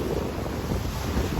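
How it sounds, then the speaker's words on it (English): Wind roars steadily across a microphone aboard a sailboat heeling under full main at sea off New Zealand, a dense, continuous broadband rush with low buffeting and wave wash beneath, no voices. "we've got quite a bit of wind at times"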